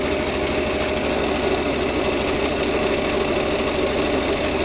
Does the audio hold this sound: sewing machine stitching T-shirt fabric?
yes